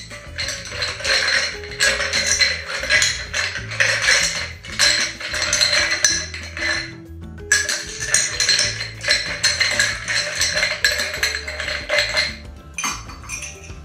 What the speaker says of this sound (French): Je remplis bien mon shaker.